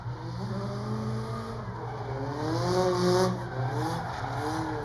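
A drift car runs a qualifying lap at Orange Show Speedway, its engine droning steadily with rising and falling pitch as it floats through the zones, tires hissing on the track, loud and continuous without pause.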